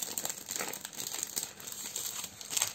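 A paper card envelope is handled up close, giving a continuous crisp crinkling and rustling with small irregular peaks throughout, and no voices.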